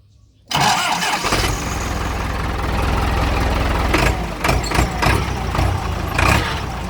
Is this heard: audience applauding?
no